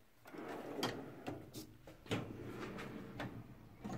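A socket drawer in a mechanic's toolbox slides open with a metallic rattle, followed by light clinks and knocks of tools shifting inside, close up and moderately loud with no talking.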